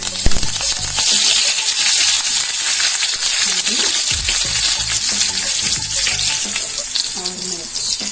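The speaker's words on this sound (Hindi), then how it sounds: "हम अभी कड़ी पत्ता तड़का लेते हैं।" Curry leaves crackle and sizzle loudly in hot oil for a chilli tempering for thin poha chivda, a steady close spitting fry with sharp pops throughout, no talk over it.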